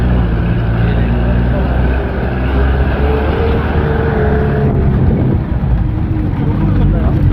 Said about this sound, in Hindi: और ये उस्ताद हमारे गाड़ी चला रहे हैं